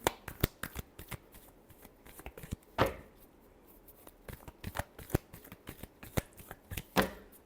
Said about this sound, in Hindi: Last shuffle, the moon.